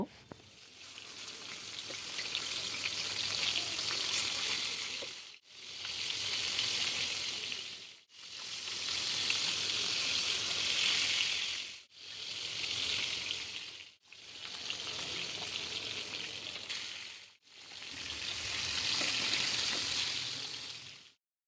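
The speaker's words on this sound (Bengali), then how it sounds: "এক পাশ ভাজা হয়ে গিয়েছে এবারে উল্টিয়ে অপর পাশ ভালো করে ভেজে নিব" Pieces of tilapia fish fry in hot oil in a pan over medium heat, giving a steady, close, bright sizzle that runs in long stretches separated by brief cuts, with no voices.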